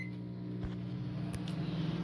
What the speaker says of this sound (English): put it in the microwave, and I'm gonna start for about 4 minutes